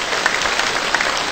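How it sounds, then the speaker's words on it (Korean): Church audience applause for a small church, a brief, dense burst of many hands clapping at a steady level without any voices. "여러분, 우리 이 작은 교회 우리 박수 한번 보냅시다."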